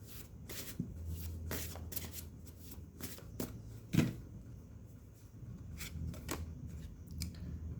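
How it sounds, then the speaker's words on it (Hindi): Tarot cards shuffled by hand in a quiet room, close and soft, with repeated riffling flutters and light taps in an irregular rhythm and no talking. "कुछ कार्ड्स निकालते हैं"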